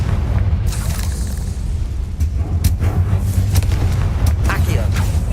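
A Confringo fire spell explodes in the Hogwarts Legacy video game, a single loud booming blast over steady low game ambience and music, with short bursts scattered through the scene.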